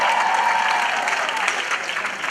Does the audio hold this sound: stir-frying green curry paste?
no